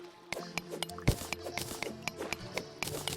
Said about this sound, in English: That is the sound of a zombie splashing around in the water.